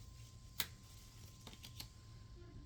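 A deck of dragon-themed oracle cards is shuffled by hand, giving a few faint, brief riffling snaps over a quiet room background.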